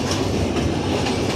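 The Modhumati Express intercity train rolls across the 1915 rail bridge over the Padma at Paksey, a loud continuous rumble of wheels and carriages with clattering steel, heard close.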